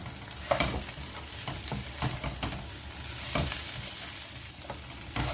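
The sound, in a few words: stirring chilli chicken fry with curry leaves and coriander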